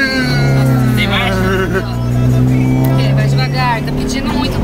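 A turbocharged car driving over a bumpy, potholed road, a loud engine drone rising and falling close by under continuous excited talk from people inside.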